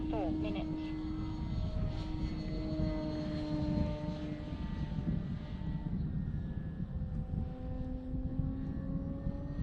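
A remote-controlled model airplane drones steadily overhead in strong, gusty wind, its propeller engine whine rising and falling in pitch against constant wind rumble, with some talking mixed in.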